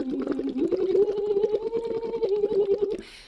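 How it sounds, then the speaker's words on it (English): A voice sings a chorus through a Lax Vox tube into water, a steady melodic hum overlaid with rapid bubbling pulses, close and moderately quiet, alone. "So I'm singing the whole chorus on my little Lax Vox tube."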